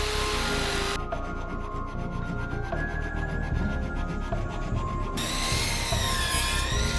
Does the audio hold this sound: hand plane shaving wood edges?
yes